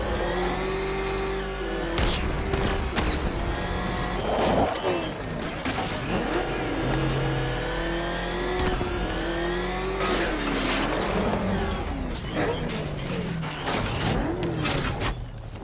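The Batmobile in Batman: Arkham Knight accelerates hard, its engine whining up and down through repeated surges and gear shifts, loud and close, with brief tire squeal and no talk.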